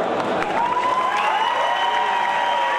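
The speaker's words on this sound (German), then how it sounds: "Nochmal Applaus für Laura, hier." Audience applause with some cheering, likely at the BlizzCon stage, for a woman who accepted a marriage proposal there; dense steady clapping and a few raised voices fill the whole stretch at close, even loudness.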